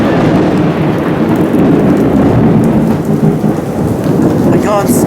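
A heavy Florida downpour roars steadily and loudly with rumbling thunder mixed into the dense rain noise, close and unbroken throughout.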